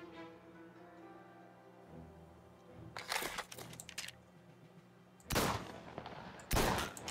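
Sniper rifle fire in the video game Mafia Definitive Edition, a few loud sharp cracks separated by seconds of quiet, over a low steady game hum.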